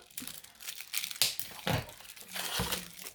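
Plastic packaging crinkles and crackles in bursts as someone struggles to tear it open, with several sharp crunches and rustles, close and moderately loud, no talking.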